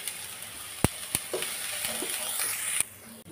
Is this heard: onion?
yes